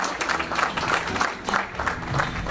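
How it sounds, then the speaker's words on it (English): Wedding reception guests clapping for the newlyweds' first dance, a lively close round of applause with pulsing bursts and a faint murmur of voices underneath. "let's start them out with a nice little round of applause"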